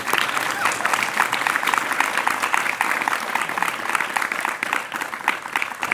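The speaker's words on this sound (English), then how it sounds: "big round of applause to Mahārāja for" Audience at a spiritual retreat session in Govardhana breaks into sustained applause, dense even clapping from a large crowd filling the room, with murmuring voices mixed in.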